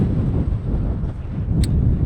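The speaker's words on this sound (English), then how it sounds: "It's quite windy." Strong wind buffets the microphone outdoors in Qatar, a steady low roaring rumble that fills the whole clip with no voices.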